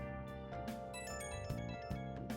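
A phone ringing in the Persona 5 video game: a bright, tonal ringtone melody plays in short repeated chiming notes, moderately loud, over game music.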